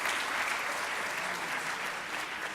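Sustained hall applause at a town mayor's New Year address, many hands clapping in an even, loud wash that holds steady for a couple of seconds.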